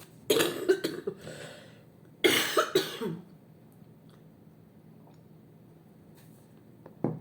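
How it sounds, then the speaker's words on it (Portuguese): Two bursts of harsh, close coughing, each a quick cluster of hacks, separated by a quiet pause, with a faint cough at the very end. "Essa tosse que não acaba nunca"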